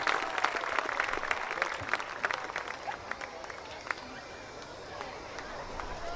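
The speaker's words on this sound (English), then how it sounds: "Please give him a big round of applause as he comes to the stage" Steady applause from a crowd, dense clapping that holds for several seconds, with a little murmuring mixed in.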